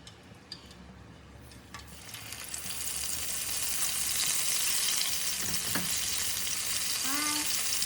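Battered vegan fish fries in a pan, a close, steady sizzle that builds and thickens over several seconds, with a few faint clinks and no talk.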